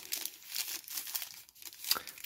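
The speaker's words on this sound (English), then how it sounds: "Nice little bit of tape here to peel off." Tape peels off the cardboard packaging of a mini speaker or action camera box, a close, quiet crinkling and tearing that comes in uneven bursts for a couple of seconds.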